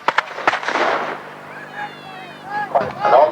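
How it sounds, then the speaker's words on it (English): Musket volley from Tudor re-enactment soldiers at a siege display: several sharp cracks in quick succession, then an echoing rumble, with a crowd and talk audible outdoors, fairly loud. "You'll notice how slow these muskets are to load, very slow"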